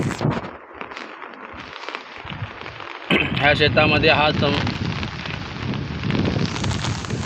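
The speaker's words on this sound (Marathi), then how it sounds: "पाऊस खूप पडतोय." Heavy rain pours onto waterlogged farm fields with broken embankments near hills in the Banoti area, a steady dense hiss running throughout, louder in the second half, with someone talking over it.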